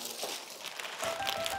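A plastic sheet or newspaper spread on the floor before eating, giving a dense, close crinkling and rustling that grows busier toward the end, with faint background voices.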